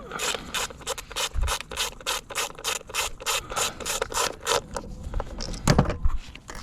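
An 8mm socket ratchet loosens the coil bolts on a Ford Escape 1.6, giving a steady run of close, crisp pawl clicks in quick regular succession with a few brief rubbing pauses.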